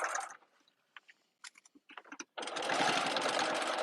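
Sewing machine with a jeans needle stitching vinyl mesh for a tote bag, scattered short clicks and taps first, then a sustained close whirring run of stitching to the end.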